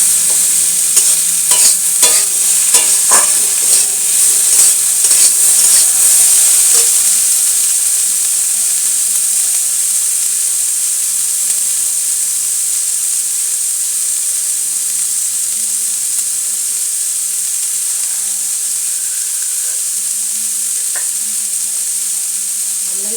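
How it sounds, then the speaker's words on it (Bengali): Banana stem fries with mustard seed and dried chilli tempering in oil, starting with loud crackling spits and stirring scrapes for several seconds, then settling into a strong, steady hiss that runs on alone. "সর্ষে ফোড়ন আর শুকনো লঙ্কা ফোড়ন দিয়ে যে থোর ভাজাটা করি"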